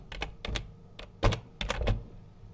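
Keys clacking on a computer keyboard while text is typed into an Excel cell, several quick bursts of keystrokes close up in a quiet room.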